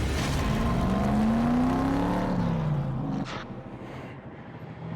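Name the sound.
car accelerating through intersection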